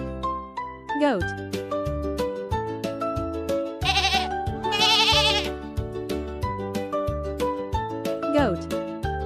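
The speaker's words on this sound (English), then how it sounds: "Goat." A goat gives two quavering bleats in close succession, loud and near, over a soft, steady melody.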